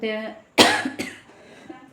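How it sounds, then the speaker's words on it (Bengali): A single loud, harsh cough bursts out close by, followed by a smaller second one, after a brief stretch of speech. "আর এই কাশি তো আমাকে যেন মনে হচ্ছে একদম অধিবাসী করে দিছে"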